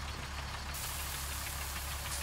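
A tractor engine in the Farming Simulator 19 farming game runs with a steady, loud, low idling drone and a slight knocking texture, heard alone with no talk.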